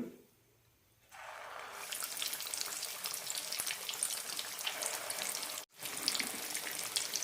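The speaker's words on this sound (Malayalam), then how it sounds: "ബാക്കിയുള്ളത് കൂടി വറുത്തെടുക്കാം" Chana dal sugiyan snacks made from idli batter fry in hot oil, a loud, continuous bubbling sizzle that begins after a quiet moment and is briefly cut off by a short gap.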